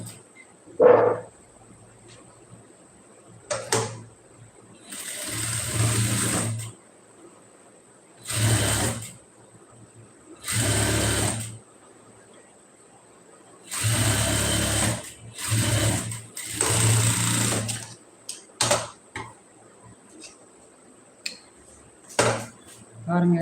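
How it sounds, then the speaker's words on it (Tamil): Sewing machine stitching a fabric border in short bursts, a loud rapid mechanical whir lasting one to two seconds each, separated by quiet pauses with small clicks and handling noises, recorded close up. "தைக்கிறேன் பாருங்கள், தைச்சு காட்டுறேன்."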